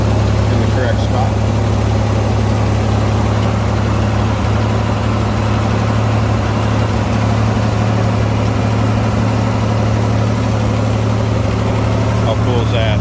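A 1965 Chevrolet Corvair Monza Sport Coupe with a fan-cooled, dual-carb engine runs at a steady idle, a constant low hum with a voice talking over it throughout.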